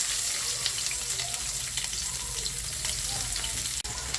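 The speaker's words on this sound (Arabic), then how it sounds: "حطيت زيت في طاسه يسخن وهنزل ببصل متقطع جوانح او شرايح" Sliced onion fries in hot oil in a pan, with a dense, continuous crackling sizzle close by. Small pops and a brief sharp click come near the end, with no talk.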